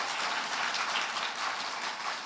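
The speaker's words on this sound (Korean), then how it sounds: "큰 박수로 함께 축복하겠습니다" A church congregation applauds to welcome a newcomer, a steady dense wash of many hands clapping at once, even and sustained throughout without a break.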